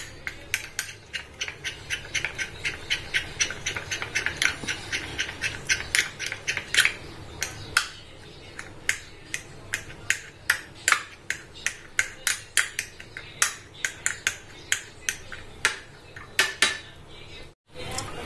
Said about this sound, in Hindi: देखिए चम्मच से घोल लीजिए इसको बिल्कुल